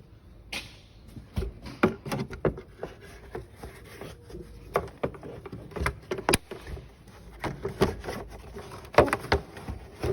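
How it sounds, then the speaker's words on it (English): A run of clicks, clunks and plastic rubbing knocks as the engine cover of a 2010 Mercedes Sprinter van is pushed and seated into place, close by, with short bursts scattered throughout. "put the engine cover back on."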